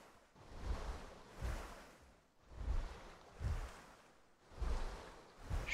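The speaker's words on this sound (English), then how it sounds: "I'm sure they hear the water moving around" A dinosaur in the Path of Titans game wades and splashes through water, three broad swells of sloshing surge at a steady pace, moderately near and with no voices over them.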